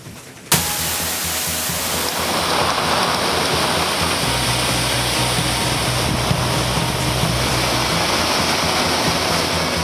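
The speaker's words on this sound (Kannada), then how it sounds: "ಧಾರಾಕಾರವಾಗಿ ಬೀಳುತ್ತಿರುವ ಮಳೆ, ಹಾಲ್ನೊರೆಯಂತೆ ಧುಮುಕುವ ಜಲಪಾತ" Heavy rain pours down at Chikkali waterfall in Kodagu, Karnataka, a dense, loud, continuous roar of falling water that begins abruptly and holds steady throughout.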